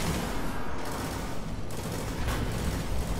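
Rapid gunfire rattles continuously in the Destiny shooter game during a fight with the Wolves' leader Taniks, dense and loud bursts of shots layered together without any talking.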